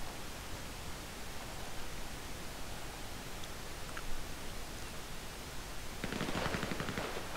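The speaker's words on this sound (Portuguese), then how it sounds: "Mesmo malucos estes gajos aos tiros uns aos outros." Gunfire in GTA Online with several players shooting at each other, heard as a hissy wash of distant rapid shots that swells into a denser burst near the end, with no voices.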